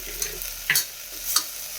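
A spoon scrapes and stirs thick masala with garam masala and turmeric in a frying pan, with a few short clinks and a soft steady sizzle underneath.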